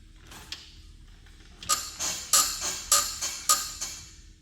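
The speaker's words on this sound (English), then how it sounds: "is that front end squeak and scraping and screeching while driving over the bumps, or just getting in and out makes this horrible sound" A worn front lower control arm on a Mercedes-Benz squeaks and creaks in a rhythmic series of five or six loud, sharp groans, like suspension flexing repeatedly, heard up close with no voices.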